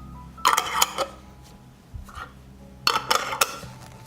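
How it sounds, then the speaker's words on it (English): Glass jars are closed with clean new metal lids, giving two close bursts of clattering, clinking and scraping taps, with a quieter knock in between. "I close the jars with clean and new lids."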